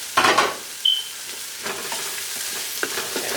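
Serrano and Thai chilies sizzle in a pan of chickpea curry while a spoon stirs and scrapes, with a few louder bursts of frying over a steady hiss close by.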